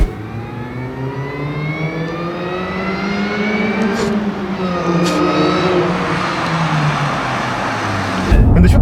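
A supercharged 648-horsepower sedan engine revs and rises in pitch with a steady mechanical supercharger whine layered over it, continuous and fairly loud, with no talking.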